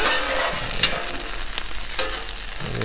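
Broccoli and shrimp stir-fry on a 36-inch Blackstone griddle with a continuous close sizzle, punctuated by a few quick spatula scrapes and clicks, with no talking.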